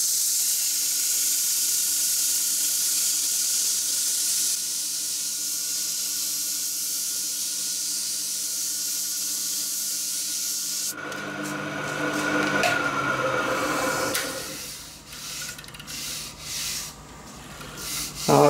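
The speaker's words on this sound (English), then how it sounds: "I'll do the finish sanding on the wood lathe." Steady abrasive rubbing hiss of finish sanding a spinning wood workpiece on a wood lathe, continuous and close for about eleven seconds, then cutting out as the lathe motor whines down and a few irregular scraping and handling noises follow.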